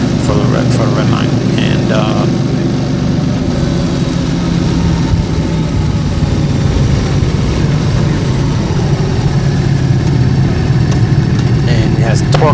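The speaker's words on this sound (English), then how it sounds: "it's intoxicating just listening to the motor rev out" A Ducati Multistrada Enduro motorcycle engine, 160 horsepower, running steadily with a deep, continuous drone, close and loud, with faint clicks at the start and end and no clear revving peaks.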